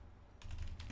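Computer keyboard being typed on while writing Java code, a short quiet burst of a few soft close key clicks.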